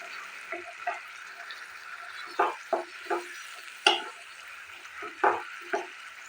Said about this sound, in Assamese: এইদৰে মই হাই ফ্লেমতে মছলাখিনি ভাজি আছোঁ